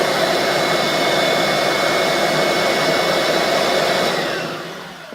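A Kirby G3 upright vacuum cleaner, an upgraded unit that is not fully original, runs steadily with a loud broadband motor whine and rushing air, then starts to wind down near the end.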